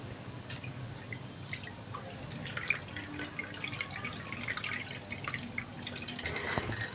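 Strained tamarind pulp drips in faint, scattered droplets through a strainer, set against a steady low background hiss.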